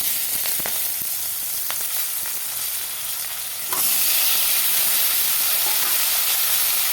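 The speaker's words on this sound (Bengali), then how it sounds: "কড়াইতে তেল দিয়ে তেজ তেজপাতাও দিয়ে দিলাম" Bay leaf sizzling in hot oil in a kadai, a steady close frying hiss that suddenly grows louder and brighter halfway through, with a few faint clinks early on.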